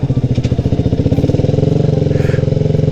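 A motorcycle engine putters up close and loud with a fast, even rhythm while riding along a coastal walking path, with no talk over it.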